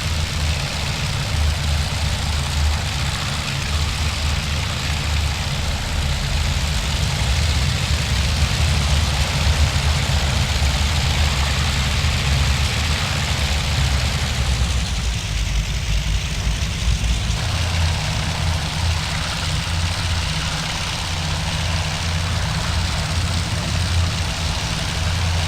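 Twin piston engines of a C-47 Skytrain in the IL-2 flight simulator run with a steady, loud low drone and rumble, holding at an idle-like level throughout with no talk.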